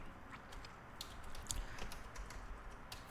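Quick, light tapping on a computer keyboard while a title is entered, irregular clicks with a few sharper keystrokes, close and quiet with no talking.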